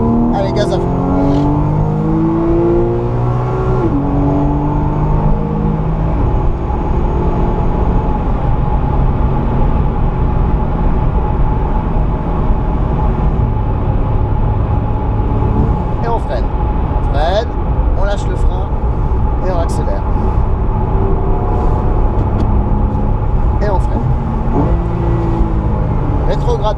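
Race car on the Le Mans circuit at full throttle, a loud continuous engine roar with rising harmonic sweeps as it accelerates through gears, heard close with a man coaching over it.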